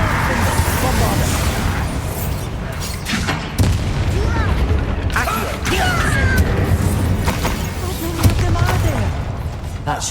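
A Bombarda blasting spell erupts amid a Hogwarts Legacy battle, bringing heavy booming explosions, crashing debris and clattering mechanisms. The loud, dense combat din is continuous, with a voice speaking over it.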